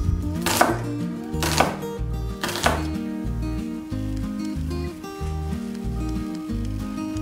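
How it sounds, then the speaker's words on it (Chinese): A knife dices an onion on a cutting board, three sharp chops near the start followed by quieter, quicker taps, heard close over a steady background tone. "一颗洋葱，再是丁"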